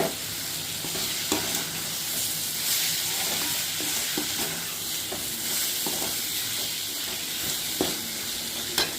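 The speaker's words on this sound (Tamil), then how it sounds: "உப்பு போட்டு ஒரு நிமிஷம் வதக்கிட்டு அப்புறம் இந்த தேங்காயை ஊற்றணும்." Ivy gourd sautéing with salt in a pan for a poriyal, a steady broadband sizzle with scattered scraping stir clicks, close and continuous throughout, no talking.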